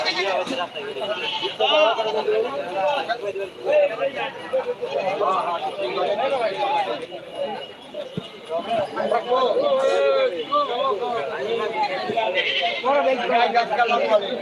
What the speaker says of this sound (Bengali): অনেক ছাগল উঠেছে যেহেতু গ্রামগঞ্জের মা বোনেরা সকলে আসে এই হাটে